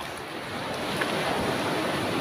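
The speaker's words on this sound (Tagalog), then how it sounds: "Ang lakas ng alon." Strong waves at a Dingal shoreline: continuous roar of surf mixed with wind buffeting the microphone, steady and fairly close, with no voices.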